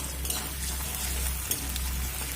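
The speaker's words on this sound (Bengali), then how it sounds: "এবার এই সব উপকরণগুলো খুব সুন্দর করে ভেজে নেব" Chopped garlic and minced onion fry in hot oil in a pan, giving a steady, close hiss with faint scraping and a low hum underneath and no voices.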